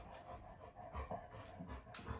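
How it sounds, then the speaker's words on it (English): A big dog moving around indoors and panting, with quick rhythmic breaths and soft shuffling that stay faint and close throughout. "My big dog's moving around, sorry about that."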